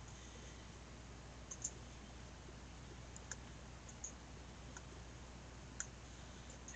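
A computer mouse clicks faintly a handful of times at irregular intervals against a quiet room hum, sharp soft ticks scattered across the stretch.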